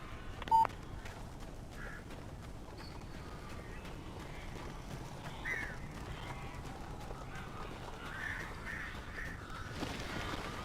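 Crows cawing in the video game Alan Wake, a few faint, distant caws scattered over a quiet, steady ambient bed, with a brief electronic beep early on.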